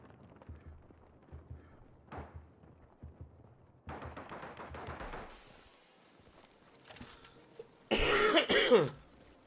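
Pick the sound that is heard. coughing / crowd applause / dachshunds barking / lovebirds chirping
coughing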